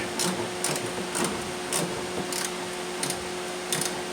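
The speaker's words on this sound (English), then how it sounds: "Take your ratchet and screw it in." A ratchet driving a screw into the plastic front bumper of a 2004 Infiniti G35, steady repeated clicking bursts at an even rhythm, about six strokes, fairly close over a constant background hum.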